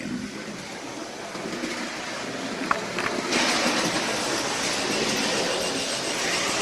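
A continuous mechanical whirring and rolling hum of a Bachmann OO gauge Caledonian 812 model locomotive running backwards on track, with a faint clicking midway and slightly louder afterward.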